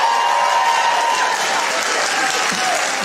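Live studio audience at a comedy show bursts into steady, loud applause, dense clapping filling the whole moment without pause.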